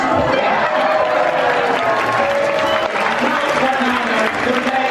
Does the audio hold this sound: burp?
no